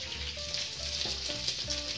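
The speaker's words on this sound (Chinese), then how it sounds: "锅热放油，把虾排排坐放进去" Shrimp frying in hot oil in a wok, a steady close sizzle and crackle with faint stirring and no talking.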